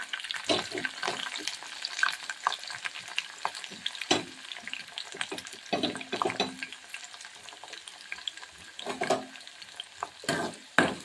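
Garlic, ginger and curry leaves frying in oil for beetroot pickle, with irregular scraping stirs and soft sizzling, fairly quiet and close, no talking.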